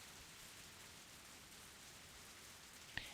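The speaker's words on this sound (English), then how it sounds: "The sound of rain resumes." Steady rain in the Higurashi game, a soft continuous hiss of falling drops on surfaces with one brief small knock near the end.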